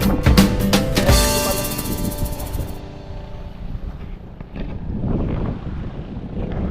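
A boat on open water off Borawan Island, Padre Burgos, Quezon, with wind buffeting the microphone, sloshing waves and a running engine hum; no one speaks.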